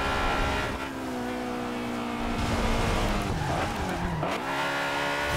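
A Honda S2000 in the Fast & Furious edition, raced in Forza Horizon, its high-revving engine whining up and dropping through the gears, with tire squeal and skidding as the car slides, loud and close with no talk.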